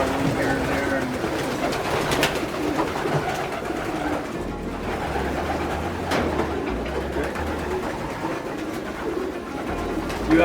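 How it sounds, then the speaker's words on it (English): Racing pigeons coo in a loft, low soft throaty murmurs repeating through a busy, rustling backdrop, with people talking nearby over the birds. "What kind of pigeons do we race?"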